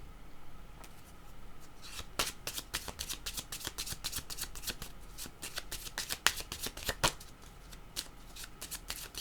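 Tarot cards being shuffled by hand, a quick series of crisp riffling snaps and flutters repeating for several seconds, close and fairly quiet against a soft background hiss.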